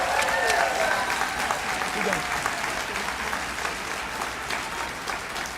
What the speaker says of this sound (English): Let's cheer.